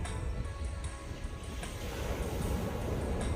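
Sea waves wash over the pebbles of Daegeum Mongdol Beach in Geoje, South Gyeongsang, making a continuous rushing surge with a low rumble that swells slightly toward the end, with no talking.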